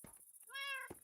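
A single short cat meow comes from a Minecraft cat in a postal sorting office, clear and fairly close, set between quiet gaps with soft clicks around it.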